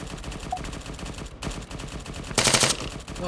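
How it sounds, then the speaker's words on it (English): Rapid gunfire and machine-gun bursts in an Arma 3 King of the Hill match, a dense continuous crackle of shots with a louder nearby burst toward the end, no talking. "I hate it when all you can hear is just shots everywhere"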